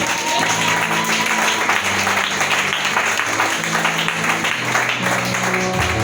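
A church congregation applauding and acclaiming during a sermon on holiness, a steady, dense wash of clapping and cheering that fills the whole stretch, with a low sustained organ or keyboard tone underneath.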